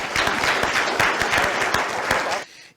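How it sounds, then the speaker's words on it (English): A short, loud round of applause from an audience at a community talk on cannabis and vaping, dense clapping that cuts off abruptly at the end. "Round of applause for Jazzy."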